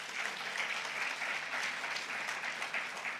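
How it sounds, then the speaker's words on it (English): An audience at a conference session claps together, a dense sustained patter of many hands at even loudness for several seconds. "Let's clap for ACRES."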